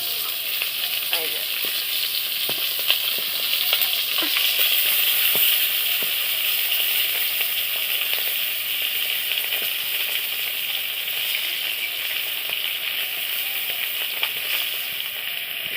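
Thin slices of fish fry in hot oil in a pan, giving a constant close hiss and sizzle with scattered small crackles and pops that run without a break.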